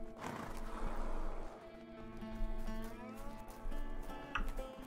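A horse neighs and whinnies in a video game, A Way Out, over a steady musical backdrop, the call rising and falling, fairly clear and close.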